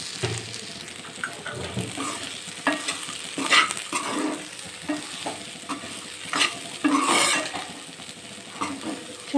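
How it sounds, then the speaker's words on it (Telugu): Bitter gourd pieces fry in a pan as a spoon stirs them, producing a lively sizzle with irregular scraping and clattering strokes, close up and with no talking. "కాకరకాయలు వేసి కలుపుదాం."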